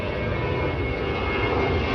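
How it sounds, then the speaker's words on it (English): Airplane flying over Hong Kong International Airport at night, a steady broad engine roar that holds at an even, moderate level throughout with no voices. "I hear a plane."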